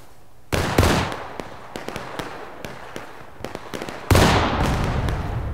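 Cannon artillery fires in the Civil War game War of Rights, two heavy booming blasts a few seconds apart with scattered sharp musket cracks popping in between.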